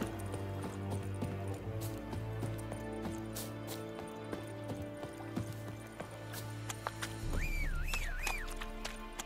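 Horse hooves clop in a soft, steady rhythm in The Witcher 3: Wild Hunt next-gen on PS5, under a low musical drone, and a sharp whistle rises near the end.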